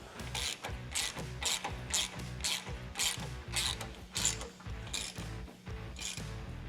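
Ratchet wrench clicking in quick repeated bursts as a 10 mm bolt is tightened into a Harley M8 Softail frame while fitting a fairing kit bracket; close, steady pawl clicks with no talking.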